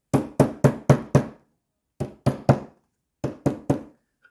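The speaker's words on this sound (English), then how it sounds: "So you can leave it in your vise and slowly tap that down here." Sharp metallic taps of a hammer on a sterling silver ring clamped in a vise, struck in three separate bursts of five, four and three evenly spaced, ringing blows with short silences between, close and clear.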